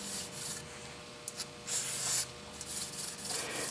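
Scotch-Brite pad scrubbing a cast-iron South Bend shaper column wet with brake cleaner, a soft continuous rubbing hiss with a few brief louder swipes, close and moderately quiet.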